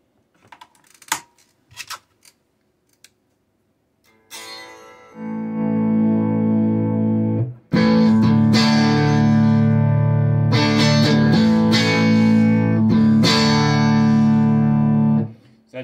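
After a few light clicks and taps, an electric guitar through the vibrato channel of a 1967 Fender Bandmaster amp strums chords with a wavering, pulsing tone, the second chord louder and sustained.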